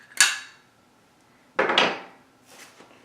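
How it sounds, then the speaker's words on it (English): Metal parts of a Mossberg 500 shotgun clacking and sliding as it is taken apart and the bolt is slid out, two sharp close clatters and a fainter third, alone in a quiet room. "Rack it forward. Slide the bolt out."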